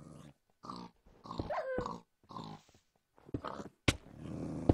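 Dogs in a survival video game growl and snarl in several rough bursts separated by short silences, close and fairly loud, with a sharp louder snap near the end.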